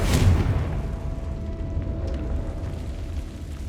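A Confringo fire spell explodes in Hogwarts Legacy with a loud, sudden boom at the start, then a deep rumbling tail that slowly fades.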